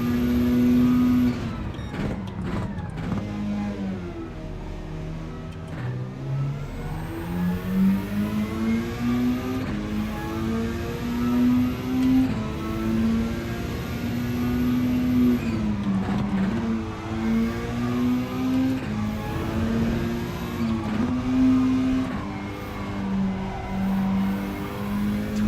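A racing car engine in a racing video game drones steadily and loudly, its pitch rising and falling with gear changes and throttle throughout.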